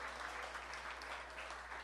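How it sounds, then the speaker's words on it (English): Faint, steady applause from a crowd at a community meeting in Molineux, continuous and distant, over a low background hum. "Let's give them a tremendous round of applause."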